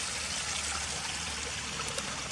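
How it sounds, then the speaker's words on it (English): Water from a drainage pipe runs out into a river, making a soft, continuous trickling rush that stays even and fairly faint for the whole stretch, with no voices. "It's just a water drainage pipe where the water's running through it and going into the river"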